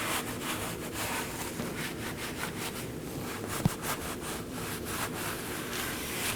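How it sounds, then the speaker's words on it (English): A wire brush scrubs the face of a steering knuckle on a 2018-2024 Chevrolet Equinox, making close, rhythmic, gritty scraping strokes at an even pace, with one sharp click midway. "be cleaning the face of the knuckle with a wire brush"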